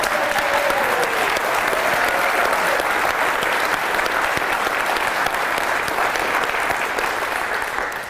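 A conference audience breaks into loud, sustained applause, a dense wall of many hands clapping steadily for the whole stretch and tapering only slightly at the end, with no speech over it.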